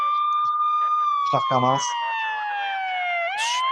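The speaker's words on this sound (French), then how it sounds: "C'est juste une sirène tout le long" A siren inside a song played during a music quiz, a loud rising and falling wail that sweeps slowly and continues throughout. Someone speaks briefly over it partway through.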